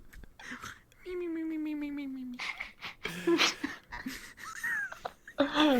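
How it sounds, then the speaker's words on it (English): A person snores oddly inside VRChat: a long droning tonal wheeze, then a run of irregular snorts, whimpering whines and breathy gasps that come close and loud and keep changing shape. "He snores really weirdly"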